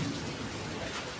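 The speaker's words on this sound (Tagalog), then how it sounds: "patuloy na bumubuhos ang ulan po dito sa Victoria Oriental Mindoro" Heavy rain pouring down steadily in Victoria, Oriental Mindoro, a dense, continuous hiss of drops on surfaces that stays loud and even throughout, with no voices.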